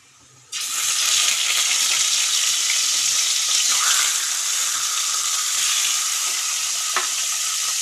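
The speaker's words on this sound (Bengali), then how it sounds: "আর কড়াভাবেই ভাজতে লেগে গেলাম।" Food frying in a kadai, bursting into a loud, steady sizzle after a short quiet start and holding close and constant, with a brief sharp clink late on.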